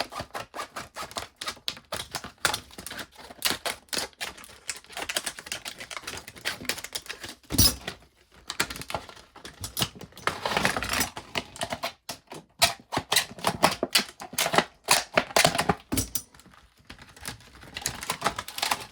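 Scissors cut tough plastic packaging of a spade bit set: crisp, irregular snipping and crackling of stiff material, with rapid clicks in bursts and short pauses, close up and fairly loud.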